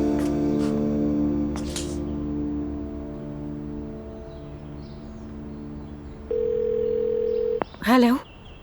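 A telephone dial tone sounds as a woman places a call to her brother, a steady tone holding for a moment before it cuts off, with a short burst of sound and faint background hum around it.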